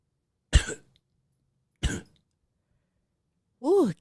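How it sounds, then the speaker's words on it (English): A person clears their throat close up: two sharp, brief throat-clearing bursts spaced about a second apart, then a short voiced grunt, with silence in between. "I think I need to pause for the cause and clear my throat."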